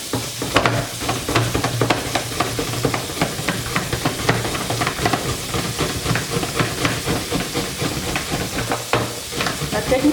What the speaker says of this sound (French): je vais râper ça là où il y a des gros trous